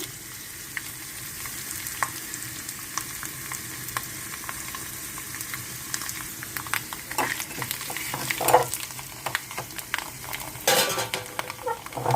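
Dried red chillies go into a sizzling tempering of garlic, curry leaves, cumin and mustard seeds in oil and ghee for dal, with steady frying hiss, scattered pops, and spoon and pan clinks growing busier toward the end.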